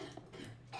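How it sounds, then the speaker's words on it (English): A person coughs in the background during a Minecraft hardmode survival game session, a short burst of a few rough coughs at low volume behind quiet game sounds. "He's coughing up a storm back there."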